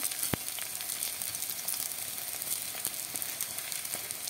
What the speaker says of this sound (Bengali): তো এইভাবে আমি এপিট ওপিট ভালো করে ভেজে নেব।